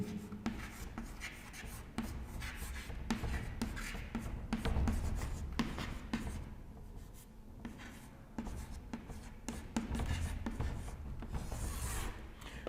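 Steady scratchy writing on a board during a history lecture, continuous rubbing strokes close up with short pauses between words, no voices.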